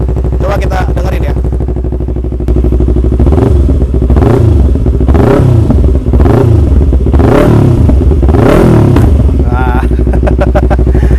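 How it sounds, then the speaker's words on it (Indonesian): A 250cc naked motorcycle engine revs up repeatedly in loud bursts, then its exhaust crackles and pops with backfire as the throttle closes, with a brief spoken word at the start. "kalau kita tutup gas motor ini tuh kayak ada backfire ya"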